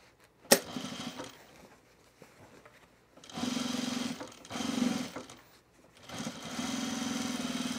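A domestic sewing machine topstitches a foam-lined baby bag, running in three separate bursts of steady, close whirring with quiet pauses between them and a sharp knock near the start.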